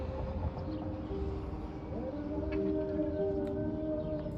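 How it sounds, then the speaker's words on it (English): A nationwide Memorial Day civil defense siren in Israel holds a long, steady wailing tone at a moderate distance, sustained over a low background rumble. "even though we're expecting it, the siren is loud and it's jarring."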